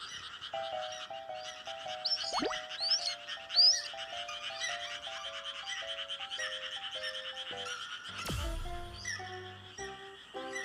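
A recorded eagle call is played through a speaker near a chorus of frogs. It starts with steady electronic tones, then sharp descending screeches sound loud and close, and a loud burst follows near the end.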